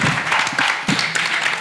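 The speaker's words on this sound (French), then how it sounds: "On applaudit." Applause from the audience at a press conference for the artist Seydou Mariko, a dense, loud burst of clapping lasting under two seconds.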